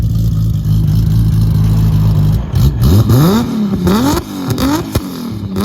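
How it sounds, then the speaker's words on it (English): A modified Toyota Supra engine idles, then revs repeatedly in sharp rising and falling bursts, loud and close, with a few pops between revs. "Here are a couple revs."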